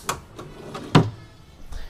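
A drawer in a teak wood TV cabinet slides open and shut, giving a few wooden scrapes and a firm knock, close and fairly loud with a soft rumble at the end.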